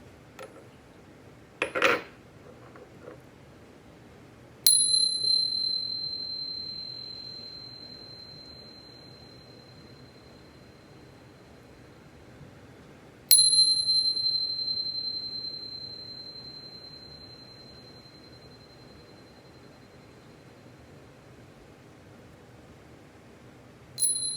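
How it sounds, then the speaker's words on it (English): A metal chime is struck twice, each bright ringing tone sustaining and slowly fading over several seconds, after a short clink near the start, in a quiet room. "let's chime."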